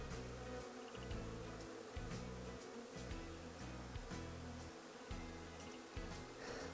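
Wild honey bees captured during beekeeping, a steady low droning buzz of many insects filling the whole stretch with pulsing swells, fairly faint and without talk.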